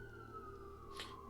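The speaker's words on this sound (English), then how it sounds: "And now there's sirens going on." Siren wailing outside during Skyrim gameplay, a steady tone gliding slowly downward, fairly faint and continuous, with a brief burst of broadband noise near the end.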